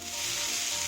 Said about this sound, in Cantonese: 咁咧我哋咧就將佢反轉嚟煎個雞皮